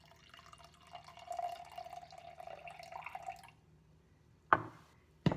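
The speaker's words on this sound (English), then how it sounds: "and then you add 75 grams of water." Water poured into a bowl of einkorn sourdough starter, a steady trickling stream lasting a few seconds before stopping, followed by a couple of sharp knocks close by.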